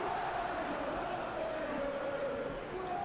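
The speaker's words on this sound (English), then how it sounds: "expectations are rising and decibel levels are rising. The noise is quite something." A large football stadium crowd murmurs and roars before an Aston Villa versus Manchester United Premier League match, a broad, distant wash of many voices holding at a steady level throughout.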